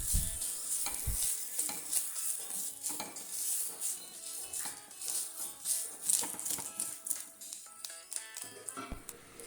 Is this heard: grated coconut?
yes